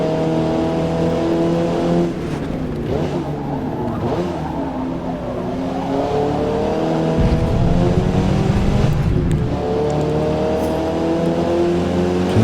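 A Mazda MX-5 race car in Forza Motorsport, its engine droning loud and steady as the revs rise and fall through gear changes during a lap.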